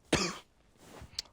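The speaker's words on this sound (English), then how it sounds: "I am so sorry I'm coughing, guys" Two short coughs, the first a loud, raspy burst and the second a softer one about a second later, close to the microphone with no talking.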